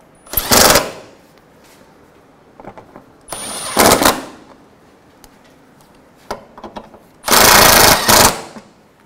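An impact tool tightens exhaust manifold bolts on a 2012-2016 Subaru Impreza, firing three loud, close rattling bursts of hammering with brief mechanical clicks between them.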